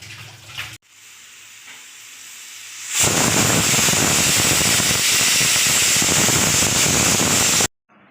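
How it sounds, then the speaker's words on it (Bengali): After a quiet start, a pressure cooker holding chicken and vegetable stew lets out a loud, steady hissing whistle of escaping steam for several seconds, then cuts off abruptly. "আমি প্রেশার কুকারে করে নিলাম। এবারে দুটো সিটি মারবো, হয়ে যাবে।"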